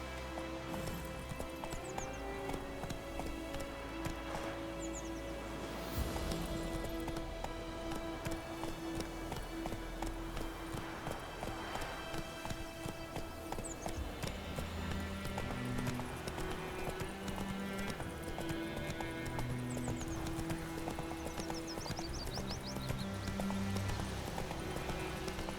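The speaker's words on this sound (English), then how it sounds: "Whoa there, Roach. Giddy up." Horse hooves clip-clop at a galloping pace in The Witcher 3 video game, a steady rhythmic run over a busy layer of game music and ambience, with an occasional whinny.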